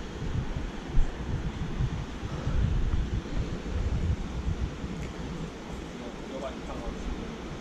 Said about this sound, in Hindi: ये देखो सामने लहरों की आवाज़ आ रही है